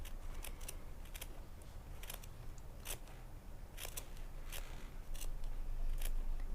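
Scissors snipping fringe into felt for handmade flowers, a series of short, crisp cuts at an uneven pace over a steady low background hiss.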